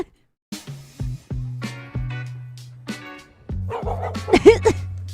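Short yips and barks from a dog at a dog park, several quick bursts spaced through the moment, fairly close, with some low rumble underneath and a louder cluster near the end.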